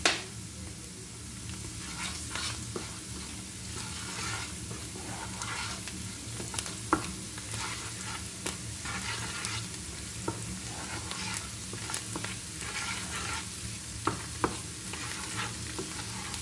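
Onions with spices and citron pepper fry for a tilapia stew, a steady close sizzle broken by repeated scraping clicks of a spoon stirring the pan, with no talking.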